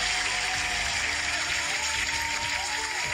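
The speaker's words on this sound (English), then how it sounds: "Why do you get an applause and I didn't get an applause at the beginning?" Sustained clapping from a crowd fills the stretch at steady volume, a dense continuous patter with no talk over it.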